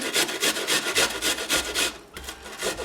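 Potatoes rubbed on the fine side of a hand grater for a fritter recipe, giving rhythmic raspy scraping strokes, close and steady, about a dozen quick passes before a brief pause.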